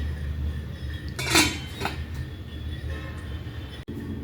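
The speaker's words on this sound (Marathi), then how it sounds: "मी झाकण ठेवून देणार आहे त्याच्यावरती" A lid is set onto a cooking pot of simmering wheat-flour dumplings with a single close metallic clink, followed by a softer clatter over a steady low background hum.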